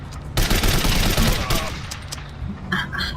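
Gunfire in the shooting video game Code of Honor bursts in loud, rapid volleys of shots, with a brief gap and further scattered reports near the end.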